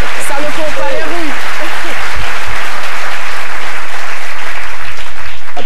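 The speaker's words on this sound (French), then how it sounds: "Je pensais que le public allait applaudir sur ce coup." Audience applause in a talk show studio, loud and continuous clapping filling the room throughout, with a voice briefly speaking over the start of it.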